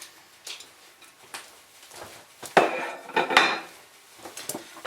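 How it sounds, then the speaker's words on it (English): A casserole dish is set down on a kitchen counter, making a couple of hard clunks with a brief ceramic rattle amid quieter handling sounds nearby. "a casserole dish"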